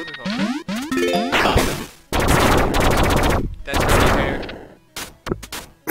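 Bursts of rapid automatic gunfire from a video game gun, several loud, close volleys of rattling shots separated by brief pauses, ending in a few scattered single shots.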